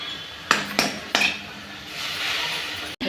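Ginger-garlic paste goes into a kadhai with a spoonful of oil on a gas stove. Three sharp metallic spoon clinks are followed by a soft, rising sizzle, all close by, ending on a sudden knock.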